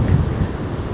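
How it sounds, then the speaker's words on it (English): Strong wind gusts roar through storm-battered woodland during a UK storm, a loud, continuous low rumble with buffeting against the microphone and no voices. "That's one blowy wind."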